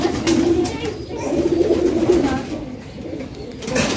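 A kept Australian dove coos near the listener in repeated soft, low, rolling phrases, the calls running in two clear bouts with a brief pause, and a voice faintly present at times.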